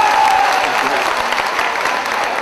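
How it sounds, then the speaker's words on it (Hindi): A crowd at a poetry recital gives loud, dense applause, close and sustained with no pause, faintly mixed with a brief tone at the start. "एक मर्तबा जोरदार तालियों से इमरान साहब का"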